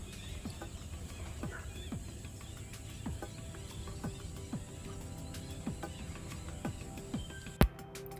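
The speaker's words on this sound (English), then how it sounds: "Just hear the sound of so many birds over here." Many faint, distant bird calls and chirps scatter across a steady open-air background in a marshland, with one sharp click near the end.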